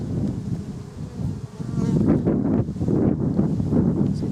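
Honeybees swarm and buzz around an open hive during a brood inspection, a dense continuous drone that swells louder after the first moments, with light wind rumble on the microphone.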